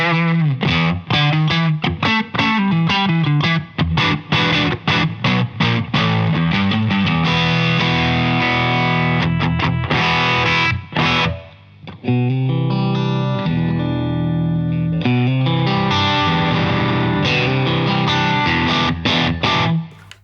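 Electric guitar through a Volta 1987 Pro amp on a stored preset, Plexi-style, playing a continuous distorted riff of chords and single notes, loud and upfront, with one brief pause near the middle.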